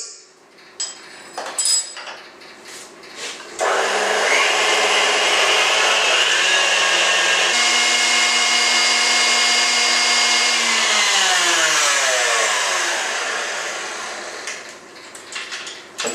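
An electric mixer whips egg whites with tartaric acid for French meringue, a steady loud whirring drone that runs for many seconds and shifts in pitch as the speed changes, preceded by a few light clatters.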